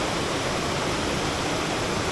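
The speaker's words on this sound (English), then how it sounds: "sad reality of fishing at a waterfall. It's just really loud all the time." A loud waterfall roars on a brook trout stream, a constant broadband rush of falling water that fills everything, steady and close with no other sounds breaking through.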